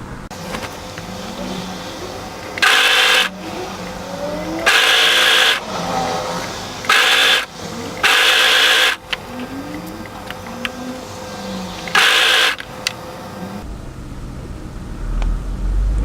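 An overlocker stitching the hem of a tee dress, running in several loud, short motor bursts separated by quieter handling of fabric, close and without talking.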